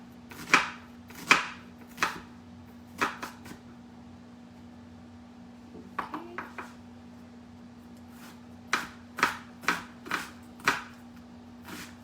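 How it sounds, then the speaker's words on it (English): Knife finely chopping onions and tomatoes on a board, with quick bursts of sharp close taps separated by pauses, over a steady low hum. "So these onions and tomatoes should be finely chopped."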